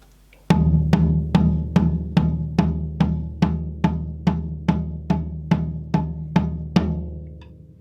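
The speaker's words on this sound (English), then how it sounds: "If we take a sequence of 16th notes just played evenly on the floor tom-tom" Sixteen or so evenly spaced, unaccented strokes on a floor tom ring out in a steady pulse, each hit booming and decaying slightly into the next, close and alone with no voices.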